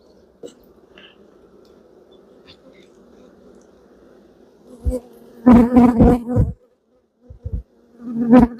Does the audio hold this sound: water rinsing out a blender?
no